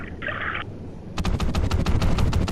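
Rapid automatic gunfire in Call of Duty Ghosts during an underwater mission, a quick string of sharp shots after a short electronic beep, loud and steady.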